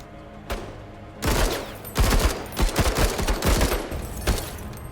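Gunfire in the video game MENACE: a single sharp shot, then a rapid, loud volley of overlapping bursts and cracks that rolls on for several seconds before tapering off.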